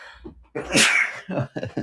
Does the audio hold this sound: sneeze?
yes